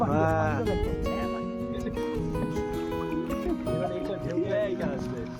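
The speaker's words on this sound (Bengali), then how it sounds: "এই তো জাহাজ চলে এসছে।" A passenger vessel comes in across the water near Mousuni island, its low droning engine and rushing wash close and loud throughout, with several people talking nearby.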